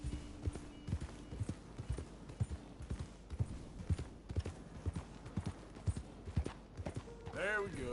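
Horse hooves clip-clop in a steady rhythm in Red Dead Redemption 2, a series of close, distinct thuds under faint background ambience, with a rising whinny-like sweep near the end.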